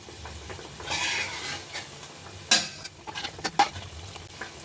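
Wheat flour biscuits fry on a low-medium flame, a soft steady sizzle broken by scraping and clinks of a utensil turning them in the pan, with a few sharper knocks near the end.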